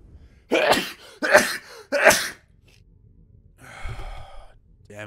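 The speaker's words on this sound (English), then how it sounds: "I just had a massive sneezing fit." A person sneezes three times in quick succession, loud and close, then lets out a breathy exhale.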